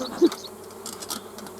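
A single bee buzzes close to a beekeeper working a hive with a smoker, a thin steady drone with brief louder passes over faint background rustle.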